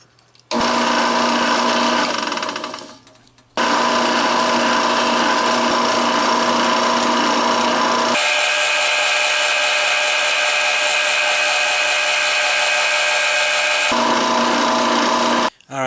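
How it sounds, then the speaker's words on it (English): A power drill bores a pivot hole in a handmade straight razor blade, whining loud and close in long continuous bursts separated by short pauses, with the pitch shifting as the bit works through the steel. "Now we're going to drill our hole for the pivot."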